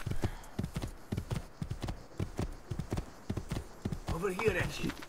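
Rhythmic galloping hoofbeats of a horse in Assassin's Creed 2, steady and fairly close, with someone talking over the hooves near the end.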